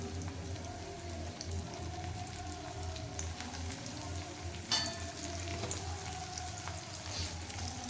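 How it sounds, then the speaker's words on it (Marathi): Semolina-coated taro root (arbi) pieces deep frying in hot oil, a steady low bubbling sizzle running throughout with a brief sharper crackle midway, close and moderately quiet. "दोन्ही बाजूनी छान क्रिस्पी होईपर्यंत फ्राय करून घ्यायची तिला."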